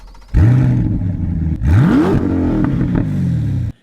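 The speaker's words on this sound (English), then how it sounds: "it sounds great. Listen to this." A Corvette Grand Sport's small-block Chevy V8 revs loudly up close, two rising throttle blips sweeping upward in pitch before settling into a rumbling idle between them, alone with no talking.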